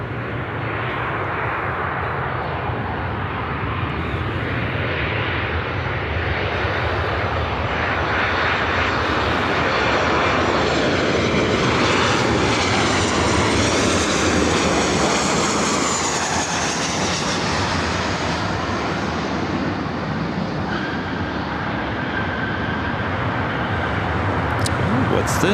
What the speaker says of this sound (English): we got that United flight coming in from Vegas, our next arrival.